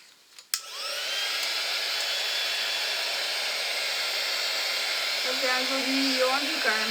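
After a sharp click, a heat gun starts and blows a steady loud whirring hiss throughout while drying a paper card, with someone speaking briefly in French over it near the end.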